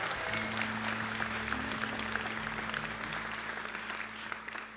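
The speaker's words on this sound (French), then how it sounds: "Qu'on applaudit, s'il vous plaît" Steady audience applause at a secondary school awards ceremony, fairly distant and constant, with a low sustained tone running underneath.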